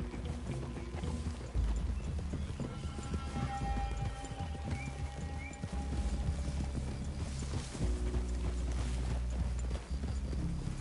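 Horses' hooves clip-clop on the ground in the video game Red Dead Redemption 2, a steady trotting rhythm over low rumbling game ambience, with a faint whinny.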